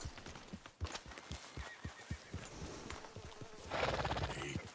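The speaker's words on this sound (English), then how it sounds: "Can you control that damn horse?" Horse from the video game Red Dead Redemption 2, hooves clip-clopping in a steady, close rhythm, with a whinny near the end.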